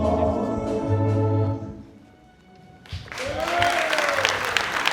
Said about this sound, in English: Applause again for Guyana.